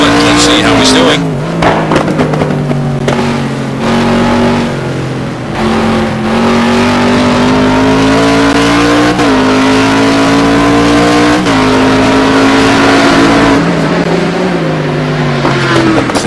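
Race cars on a hot lap at Anderstorp in a GT1 racing video game roar continuously at high revs, engines rising and dropping through gear shifts with occasional tire squeal, loud and close throughout.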